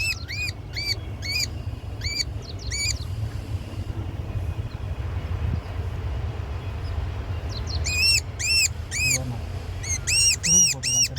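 A babbler caught in a net calls in bursts of sharp, repeated chirps at close range, first early on and then again near the end, over a steady low hum.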